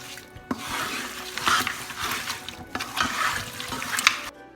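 Mutton biriyani marinade being stirred with curd and lemon juice in a bowl, a steady wet squelching and scraping with a few sharper clinks of the spoon, close and continuous throughout.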